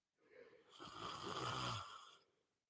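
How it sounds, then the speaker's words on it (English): A long human yawn swells up, holds in a breathy, voiced stretch, then fades out, alone and close. "I am yawning way too much."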